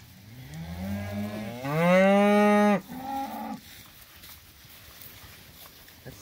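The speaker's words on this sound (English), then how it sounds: "That cow's eating cockleburs." A cow in a grazing mob feeding on a cocklebur field gives one loud, close, drawn-out moo that rises in pitch, then a shorter lower grunt. Quiet field ambience follows.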